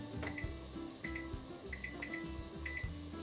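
A kitchen timer set while Dr Pepper jelly boils on the stove, giving repeated short double beeps in a steady rhythm over a low background hum, near and clear with no talking.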